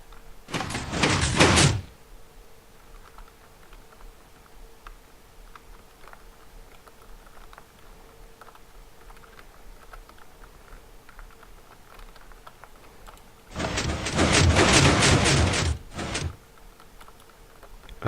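A 3x3 redstone lamp door in Minecraft working, two loud bursts of mechanical sliding and clacking, one at the start and a longer one near the end, separated by quiet low clicking.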